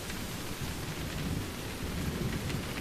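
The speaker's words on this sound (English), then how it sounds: "It's raining and freezing out here." Steady heavy rain with rumbling thunder outside a door on a cold night, a dense continuous wash of noise close by with no voices.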